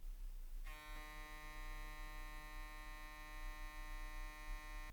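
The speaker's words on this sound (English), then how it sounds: "Now this has a nice hum to it and not like a rattle you hear in some other clippers." A Stylecraft Instinct hair clipper switches on and runs with a steady, smooth motor hum, close and unvarying, with no rattle and no talking.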